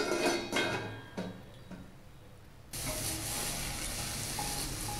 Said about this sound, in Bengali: দেখুন আমার পনিরটা প্রায় ভাজা ভাজা হয়ে গেছে অল্প